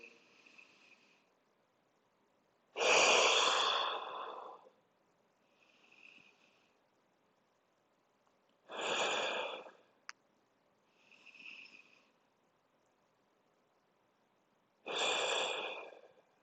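Slow, deep breaths during a gym stretching session: three long, loud broadband breath bursts spaced several seconds apart, with fainter softer breaths between them and no talking.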